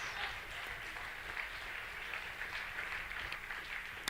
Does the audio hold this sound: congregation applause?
yes